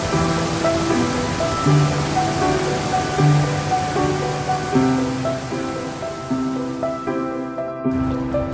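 A mountain stream near Copeland Falls in Rocky Mountain National Park rushes in a steady, broad hiss, partly masked by music playing over it throughout.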